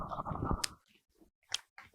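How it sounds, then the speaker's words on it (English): Someone chews right into a podcast microphone, making close, wet, crunchy bursts of mastication and small clicks, separated by brief quiet gaps. "Me chewing into the mic."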